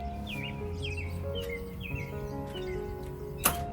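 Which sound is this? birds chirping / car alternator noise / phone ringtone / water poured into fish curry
birds chirping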